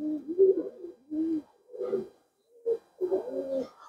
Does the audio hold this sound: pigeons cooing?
yes